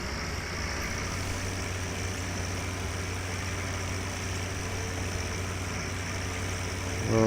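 A Farming Simulator 17 tractor engine runs steadily at a low idle-like drone, even and continuous throughout, with a faint rise in level at the very end.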